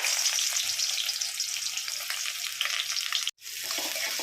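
Onions fry in oil for a potato dum biryani with a loud, steady sizzle and crackle, close by and alone, cutting out briefly near the end before resuming.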